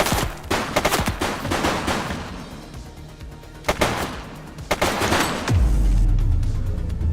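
Rapid gunfire in The Precinct video game: loud, close bursts of repeated shots with short pauses between volleys, ending in a deep rumbling boom, with no talking.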